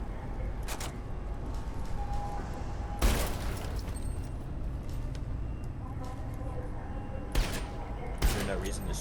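Gunfire from a weapon in the first-person shooter SiN Episodes: Emergence cracks out in a few sharp, loud bursts spread across the clip over a steady background hum of game ambience.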